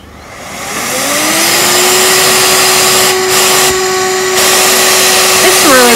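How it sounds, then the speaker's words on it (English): A Tab-Tabot vacuum cleaner fitted with a brush attachment switches on, its motor whine climbing to a loud, steady pitch and holding there, with a brief shift in tone near the end. "Put the brush to the vacuum cleaner and push the red button here."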